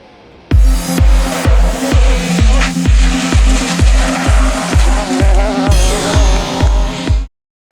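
Rally cars at the Rallye régional du Pays Viganais 2024 blast past on a special stage, loud and close, with a rapid repeating series of sharp engine bursts and gear changes and some tire squeal, ending abruptly.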